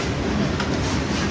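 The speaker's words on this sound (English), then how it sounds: "I don't believe that train came by." A train rumbles past with steady, dense clatter of wagons on rails, loud and continuous with no break, and no voices audible over it.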